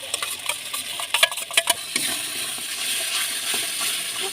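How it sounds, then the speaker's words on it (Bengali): A spice masala is stirred and fried in a pan, with quick scraping and clinking strokes in bursts followed by a steadier sizzle, close by and with no talking. "মশলাটা ভালো করে কষে নেবো।"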